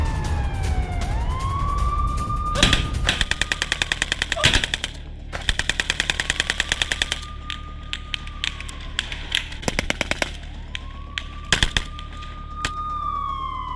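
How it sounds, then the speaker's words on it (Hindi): Gunfire from a Hamas fighter in news footage, with rapid automatic bursts and scattered single shots repeating loudly across the scene while wailing sirens rise and fall behind them, and no talk over it. "ये तस्वीर है हमास के लड़ाके की फायरिंग की जो आईडीएफ के ऊपर यानी इजरायल की सेना के ऊपर कर रहा है"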